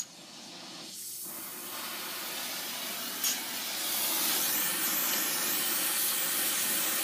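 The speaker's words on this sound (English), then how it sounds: "bring your torches over, oxygen and acetylene is turned on." An oxygen-acetylene torch heats a nut on a Dodge Ram 1500 during a power steering pump swap, a close, continuous loud hiss that swells slightly after ignition and holds steady.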